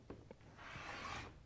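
Scissors or a rotary cutter slice through fabric for a machine embroidery wall hanging, two short taps followed by a soft, brief rasping cut, quiet and close.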